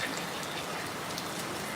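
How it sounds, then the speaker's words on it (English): Steady artificial rain from sprinklers on a studio backlot falls in an even, dense hiss of drops splashing on surfaces, continuous and fairly close, with no voices. "The rain is created by sprinklers."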